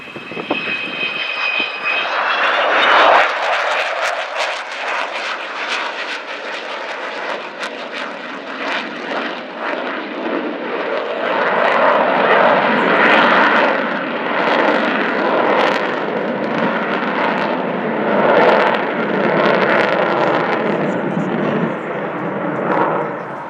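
Avro Vulcan XH558 delta-wing bomber making a performance takeoff at RIAT 2015: a loud, sustained jet engine roar that swells and rumbles with whining tones at the start, under someone narrating.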